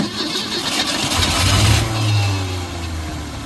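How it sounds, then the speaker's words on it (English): An old carbureted Ford Falcon engine, left sitting for 46 years, cranks and catches, a low rumbling start that swells and settles into a rough, steady idle, loud and close with no voices. "this thing sounds like it's gonna fire now"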